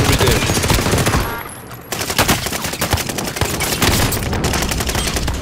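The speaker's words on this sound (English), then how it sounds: "What is this gun I'm shooting?" Rapid automatic gunfire in a Call of Duty match, loud dense bursts of shots rattling close by with a brief pause before the firing resumes.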